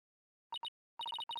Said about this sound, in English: Ah, yeah. That's my ringtone.